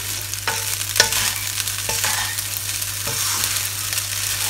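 Rice for pineapple fried rice stir-fries in a wok, loud continuous sizzle with recurring spatula scrapes and tosses every second or so, close up and alone.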